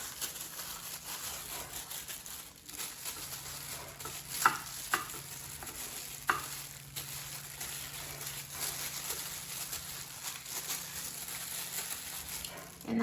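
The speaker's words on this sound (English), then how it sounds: "And now rub the seasoning so distribute it evenly." Hands rub seasoning onto raw turkey wings, making soft, close, continuous wet squishing and crinkling with a few small taps, fairly faint and steady throughout.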